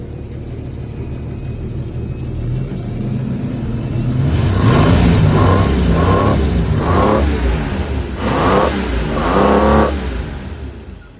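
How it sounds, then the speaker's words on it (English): A car engine fitted with KBL triple carburetors idles with a low rumble, then is revved repeatedly in several sharp, rising bursts, close and loud, with no talk. "Give her a rev up, see how she sounds."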